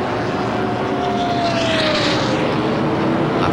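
A race car with a damaged front end idles with its engine running in the pits during the 1989 IMSA Daytona 24 Hours, a loud, steady, broadband roar that fills the whole stretch without pause.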